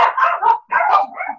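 A dog barks indoors in a few quick, loud, close yaps, two bursts separated by a short pause, with no one talking.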